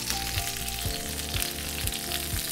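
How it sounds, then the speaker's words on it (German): Vegetables sautéing in clarified butter in a frying pan on the stove, giving a loud, steady broadband sizzle with soft periodic stirring thumps, no voices. "und dünsten das Gemüse ein wenig darin an"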